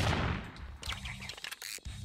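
A gun fires in the Roblox game Blox Fruits, a quick pair of sharp shots followed by short bursts, fairly quiet and close, with no talking over it.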